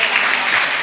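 A church congregation at Grace Tabernacle claps loudly together in a dense, unbroken burst of applause that fills the hall, with no talking over it.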